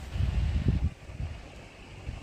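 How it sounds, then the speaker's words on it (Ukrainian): Strong, very cold wind gusts outdoors on a sunny day, buffeting the microphone with uneven low rumbling bursts that swell and ease over a couple of seconds, no talking heard. "Сьогодні дуже вітряно"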